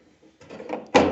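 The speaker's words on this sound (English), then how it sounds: "I can open the door and close the door." A 1980 Triumph TR7 car door opens with a soft metallic creak and rustle, then shuts with a firm, close thunk, with no voices.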